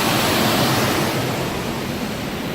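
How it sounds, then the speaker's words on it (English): Water rushing at the waterfall at Owl's Nest, Sweet Arrow Lake, heard as a steady, loud, unbroken roar with no voices over it. "Here's the waterfall."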